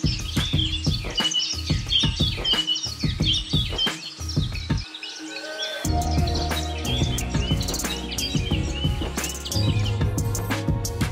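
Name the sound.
flock of birds chirping at sunset near Boral bridge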